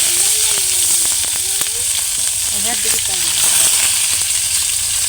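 Onions fry for a chicken curry in a pot over a wood fire in a village hut, giving a steady loud sizzle while someone talks over it.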